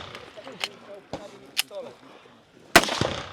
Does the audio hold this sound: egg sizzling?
no